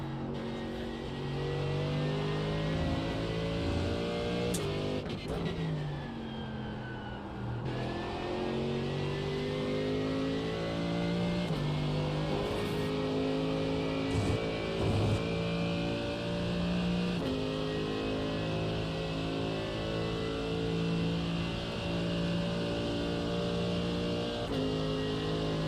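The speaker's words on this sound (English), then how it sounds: "Now that I'm driving GT3" A GT3 race car engine in a racing video game, revving steadily through gear changes with sustained mid-pitched harmonic drone, occasional shifts and pitch swoops, continuous and close throughout.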